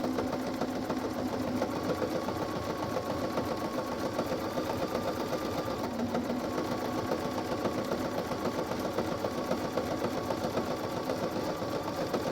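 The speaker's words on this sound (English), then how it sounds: "side of your machine, and you just slowly continue to stitch around the way you were stitching" Sewing machine stitching steadily around cording for a round fabric bowl or altar pad, a continuous close mechanical whir and rapid needle rattle with no pauses or talking.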